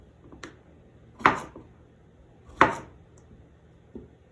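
Cucumber being chopped for pickling, with a few separate knife strikes on a cutting board, two of them sharper and louder, spaced irregularly in a quiet room.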